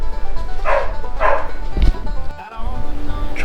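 A dog gives short, yippy barks and whimpers up close, several bursts in quick succession indoors during a woodstove hearth project in Alaska, with a voice talking to it in between.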